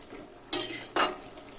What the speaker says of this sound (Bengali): চিংড়ি মাছ আর জিরা বাটা দিয়ে আমি আবার একটু নেড়ে চেড়ে দেবো